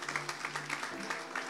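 A church congregation gives a round of applause, with steady, fairly quiet clapping from many hands in a brief burst.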